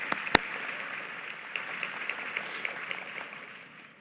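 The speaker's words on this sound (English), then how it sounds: "That deserves a round of applause." A crowd at a county address applauds in a soft, steady wash of clapping that carries from some distance. A sharp click comes near the start, and the applause fades toward the end.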